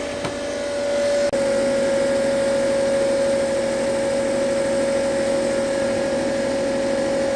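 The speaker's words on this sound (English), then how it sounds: "the washing machine is now on, and there's water going in." A washing machine in a shed runs steadily while filling with water, giving a constant motor hum with a faint tonal whine and hiss. A click comes early, then the sound holds evenly, and no one speaks.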